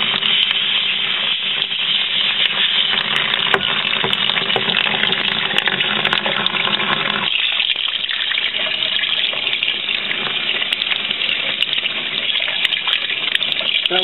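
Tap water gushes steadily through a removable Canon printhead held under a sink faucet, a loud continuous splashing flow that thins slightly partway through, with no talking.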